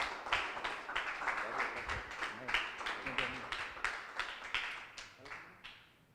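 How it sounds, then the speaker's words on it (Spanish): A church congregation at a men's service claps together in steady, dense applause, welcoming a pastor to the front of the room, fairly loud and sustained before gradually easing off toward the end. "Recibámoslo con un fuerte aplauso al pastor."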